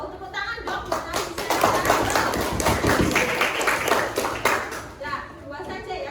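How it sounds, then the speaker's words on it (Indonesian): Children clapping in a classroom, a loose burst of many hands that swells for a few seconds and then fades, with young voices chattering underneath. "Oh, tepuk tangan dong."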